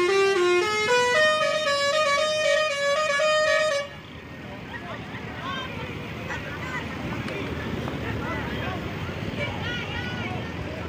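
A basuri musical horn on a Jetbus Setra coach leaving the Al Jabbar mosque parking lot plays a loud stepped melody of rising and falling tones, then cuts off, leaving engine rumble and crowd noise with someone talking over it.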